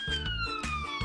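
An ambulance siren wails loud and close in a short burst, its tone sliding steadily downward as the vehicle moves past, with a rhythmic low engine pulse beneath.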